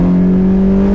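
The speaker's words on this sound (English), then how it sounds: "And then with this engine, like, it has decent torque down and low, but then you rev it out." A Mazda MX-5 NC's engine holds a steady high-rev drone, loud and close, with a strong sustained tone and no voices over it.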